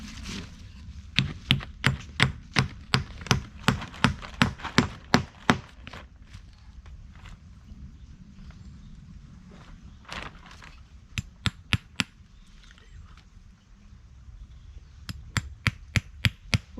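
Nails being hammered into wood while building a village woodshed: two runs of loud, sharp, evenly spaced blows near the mic, with quieter gaps between and a few isolated strikes.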